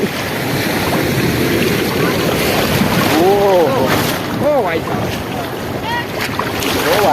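Sea waves wash in at Shivrajpur beach while strong wind buffets the microphone with a continuous roar. People shout and call out over the surf.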